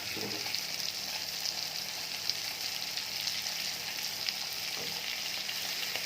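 Food sizzles steadily while frying in hot coconut oil, a constant bright crackle with occasional small pops, close and alone with no voices.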